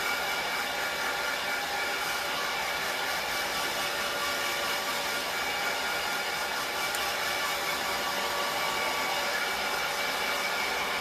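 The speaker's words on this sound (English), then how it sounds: "I have a lot of hair, so blow drying is not a quick thing for me." A hair dryer blows steadily while drying a thick head of hair, a constant close whooshing roar with no voices for the whole stretch.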